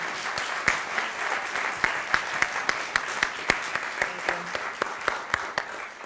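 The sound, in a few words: audience applause at concert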